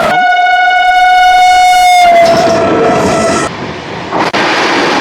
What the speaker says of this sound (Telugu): హౌరా రాజధాని వస్తుంది 12302 వయా గయా.